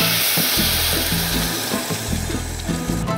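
Water poured into a hot pan while cooking a Brazilian dish sets off a loud, steady sizzle and hiss that runs unbroken throughout, with no talking.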